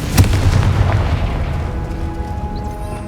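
Confringo spell explosion in Hogwarts Legacy: one loud, sharp booming blast with a deep low-end thump, followed by a rumbling decay and faint lingering tones, alone without talk.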